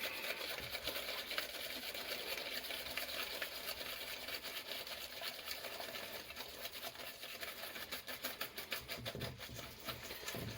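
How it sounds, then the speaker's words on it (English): Milk being whisked into an egg custard mixture in a pan for a chocolate orange bread and butter pudding, a steady rapid scraping and clicking of the whisk, close and continuous throughout, with no speech. "now whisking it constantly as the milk goes in"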